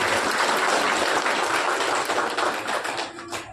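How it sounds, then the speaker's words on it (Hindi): Applause at a club ceremony honouring a doctor during a free cataract check-up camp, a dense crowd of clapping hands that stays loud and steady, then thins out and fades toward the end. "जोरदार तालियां डॉक्टर साहब के लिए"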